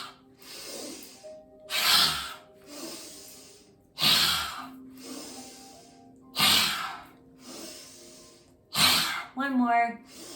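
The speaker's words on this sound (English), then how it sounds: "Inhale up, exhale. A few more. Listen to your breath." A yoga group breathes together in slow, paced cycles, with four or five loud, airy exhales spaced about two seconds apart and softer inhales between them. An instructor's voice is heard between the breaths.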